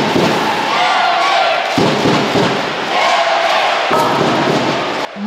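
Loud, dense roar of a full crowd of fans in an indoor ice arena during a hockey match between Chelny and Dinamo Altai, with surging cheers and chants and occasional thuds throughout.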